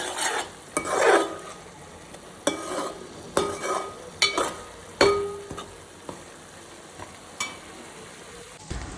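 A spoon stirs and scrapes through frying fish curry masala in a pan, with gentle sizzling underneath and irregular metallic scrapes and clinks close up, no voices.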